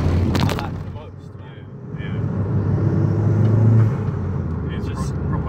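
A Vauxhall Corsa VXR pulls hard on the road, its engine and turbo building into a loud, deep rumbling roar that swells and eases as the car accelerates, heard from inside the cabin.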